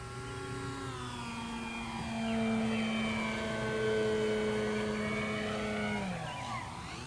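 FMS Beaver 2000mm electric RC model airplane flying overhead, its steady motor whine rising and falling in pitch as it passes, with no voices.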